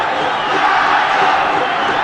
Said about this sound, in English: And the crowd is roaring.